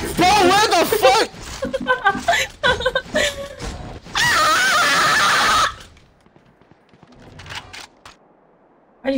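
Loud, high-pitched screaming in a gaming stream erupts in several bursts, one long sustained shriek among shouted talk, then quiet.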